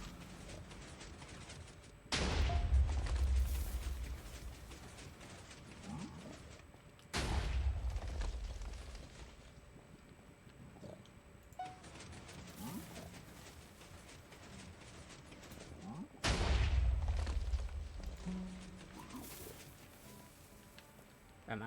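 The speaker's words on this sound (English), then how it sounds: "Pretty explosions." Minecraft explosions blasting out the Nether: three loud, booming blasts spaced several seconds apart, each with a rumbling decay, separated by quieter crackling and rumble.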